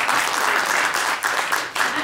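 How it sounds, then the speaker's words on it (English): An auditorium audience at a school event applauds for the principal, with steady, full clapping that swells and dips slightly while a voice is faintly heard underneath. "So clap it up for Principal Williams."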